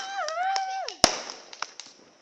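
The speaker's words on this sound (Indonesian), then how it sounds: "Sekarang ini lagi pesta kembang api loh" A rising whistle from a firework or rocket at a New Year fireworks celebration is followed by a sharp bang and a few scattered firecracker pops trailing off, with people faintly talking.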